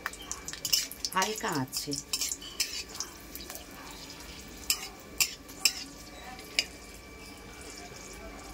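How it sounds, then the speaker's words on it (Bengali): Dried red chilies fry in hot oil in a home kitchen, with soft sizzling under scraping and clinking of a utensil against the pan, plus a few sharp metallic taps near the end and a brief spoken phrase. "প্রথমে শুকনো লঙ্কাটাকে তেলের মধ্যে ভেজে নিতে হবে।"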